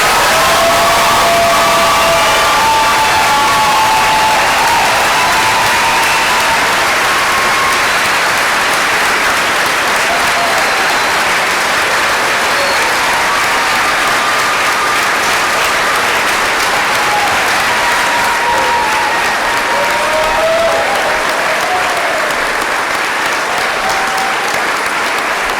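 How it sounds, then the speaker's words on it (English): A large audience at a 2013 graduation ceremony applauds the graduates, sustained loud clapping filling the hall with scattered cheers and whoops throughout. "Please join me in offering a round of applause for all graduates in the class of 2013."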